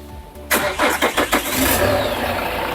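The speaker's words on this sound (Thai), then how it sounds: "เครื่องยนต์สตาร์ททีเดียวติดเลยนะครับ" A 2014 Hyundai H1 2.5 diesel van engine cranks in several quick, rhythmic pulses, then catches on the first try and settles into a steady, rumbling idle.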